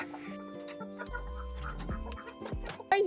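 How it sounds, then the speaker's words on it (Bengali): A white rooster clucks several times close by, short throaty calls with a louder burst near the end, with no talk over it. "এই হোয়াইট মোরগটা আমার ছেলের অনেক পছন্দের একটা মোরগ ছিল"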